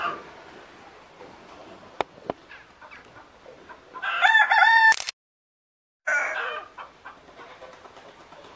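Rooster crowing with clucking chickens at a bird rehabilitation centre, a loud crow rising over a steady background of hens and other birds, followed by a short silence and more clucking.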